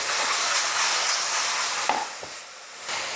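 Garlic sizzles briefly in a hot pan, a steady soft frying hiss with a couple of light stirring knocks near the end.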